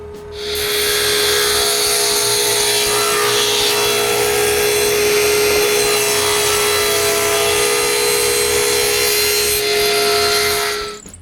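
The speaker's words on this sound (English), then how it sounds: "The painted side is cut with the table saw." A table saw whines steadily as it cuts through a painted wooden piece for about ten seconds, loud and close, with a sustained high-pitched ringing tone before spinning down.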